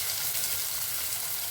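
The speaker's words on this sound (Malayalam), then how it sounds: "കടുക് പൊട്ടിയിട്ടുണ്ട്." Mustard seeds splutter in hot oil, a continuous close hiss and crackle of frying with onion, chilli, curry leaves and ginger, steady and fairly loud.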